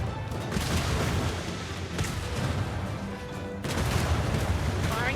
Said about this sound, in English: Chasers, get ready. Firing full arms.